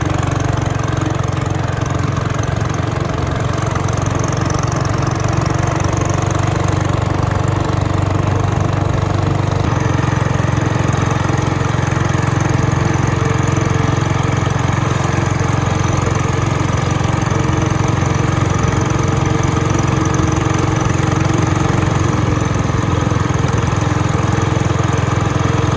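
A Trail Master Hurricane 200X motorbike engine fitted with a small muffler runs steadily and loudly for the whole stretch, a continuous close rumble with no talk.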